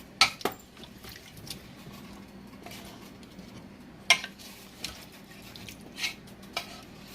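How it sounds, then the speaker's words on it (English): A spoon stirs yam and water in a cooking pot, giving a handful of sharp metallic clinks and scrapes spread irregularly over a soft simmering background, with no talking. "So you mix everything to combine."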